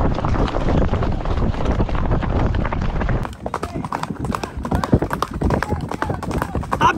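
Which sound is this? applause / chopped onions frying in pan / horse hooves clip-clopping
horse hooves clip-clopping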